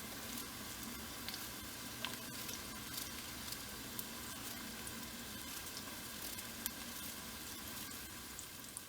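Onions sizzling in a stovetop pot for beef or veal stew, a steady low fry with faint crackles and pops running evenly throughout, no voices.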